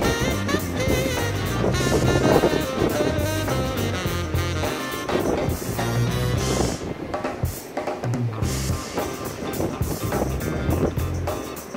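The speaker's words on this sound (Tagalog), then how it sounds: "Lakas ng hangin!" Strong wind buffets the microphone at a bikepacking campsite by the tents in Ballesteros, Cagayan, loud gusting rumble rising and falling in irregular bursts.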